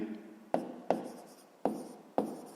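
Pen strokes on paper while working a 5th-grade math exercise: four distinct tapping marks, each with a short scratch trailing off, close and quiet over a soft room hiss.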